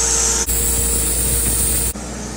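Compressed air hisses steadily from a blast pot with an aftercooler hooked up and running, a loud, constant broadband rush with brief dips near the start and end.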